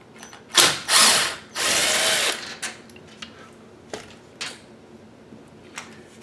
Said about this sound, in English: So let me take this screw out of here.